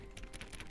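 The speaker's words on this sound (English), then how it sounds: "I really like the sound of the mechanical keyboard for this." A mechanical keyboard in The Stanley Parable: Ultra Deluxe types a quick run of faint, crisp clicks in close succession.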